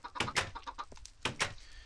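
Chickens in the Minecraft video game give a few short, clipped clucks in quick bursts, close and fairly quiet.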